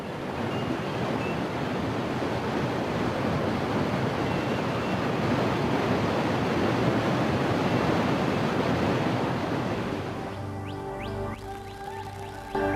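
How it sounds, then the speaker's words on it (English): Fast, furious river water rushes through New Guinea jungle too wild for canoes, a steady loud roar that fills the whole stretch and eases slightly near the end, with nothing heard over it. "we reach waters that run too fast and furiously for even the most powerful canoes"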